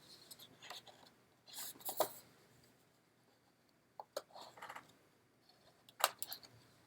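Faint, scattered snips and paper rustles come from cutting out a paper piece for a pop-up card, in short irregular bursts with quiet gaps between.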